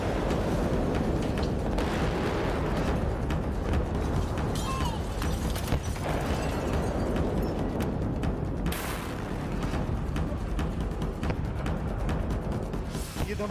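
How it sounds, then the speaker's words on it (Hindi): Explosions and blasts from war footage in the Russia–Ukraine conflict around Mariupol, a dense, loud rumble of booms and bursts running throughout, with sharper cracks at intervals. "ये धमाके भी बहुत छोटे हैं।"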